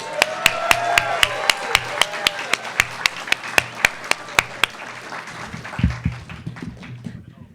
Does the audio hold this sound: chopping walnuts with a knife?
no